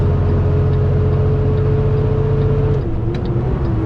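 A car engine in third gear pulls uphill on steep North Carolina and Tennessee hills at about 1600 RPM. It is a loud, steady, close drone that dips slightly in pitch near the end.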